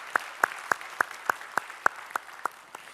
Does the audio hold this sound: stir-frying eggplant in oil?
no